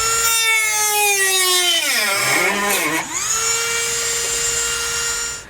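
A cutoff wheel slices through metal strips on a 2016 vehicle while a Roadmaster direct-connect base plate kit is fitted: a loud, steady high-pitched whine that drops in pitch as the wheel bites, then climbs back and holds.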